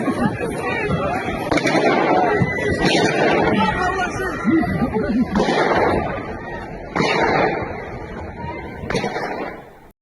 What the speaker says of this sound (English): you can hear the sound of gunfire as people are shot at close range